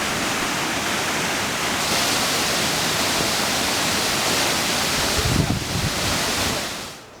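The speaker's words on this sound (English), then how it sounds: "Our first stop in the park itself was the Vachiratan waterfall, or the Diamond Creek Falls" Vachiratan Waterfall, also called Diamond Creek Falls, an 80-metre fall in a Chiang Mai park, roars in a steady, dense wash of falling water, loud and continuous with a brief swell before fading.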